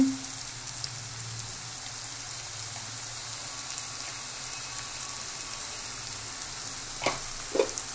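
Amaranth leaves frying in a pan, a soft, even sizzling hiss with a couple of sharper clicks from the spoon near the end.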